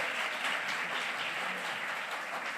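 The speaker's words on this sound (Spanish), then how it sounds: "Dale un aplauso al Señor si quiere en esta hora." A church congregation at a Pentecostal service claps for the Lord, a steady, dense wash of applause throughout the short stretch.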